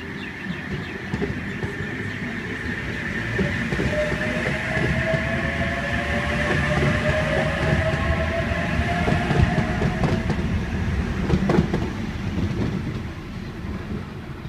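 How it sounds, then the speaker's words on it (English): A Sydney Trains H21 Newcastle service at Gosford station platform 2 rumbles steadily nearby for the whole stretch, with a sustained motor whine and rising electric tones as it moves. "Over here on platform 2 we have H21 Newcastle service."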